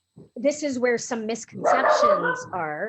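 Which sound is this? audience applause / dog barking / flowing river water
dog barking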